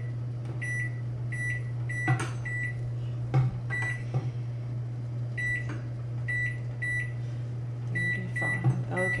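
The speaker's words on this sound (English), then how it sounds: "And then I set a timer real quickly here." A kitchen microwave or timer being set in a bagel-making kitchen, several short electronic beeps tapped out in quick groups over a constant low appliance hum, with a few clunks and knocks between them and no talk.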